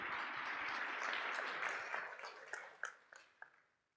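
Conference audience applauding before a technical talk, a quiet burst of clapping that thins out into a few scattered, distinct claps as it dies away.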